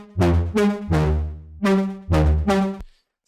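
Five clean synth lead notes with bright harmonics, distortion switched off, in a future house track, played in a short phrase with brief gaps, each sustaining then stopping, no grit or distortion.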